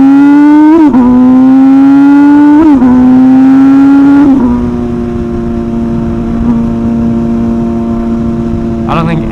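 An MV Agusta motorcycle on a night ride revs its engine loud and close. The pitch climbs and drops in several sharp blips, then settles into a steady higher drone.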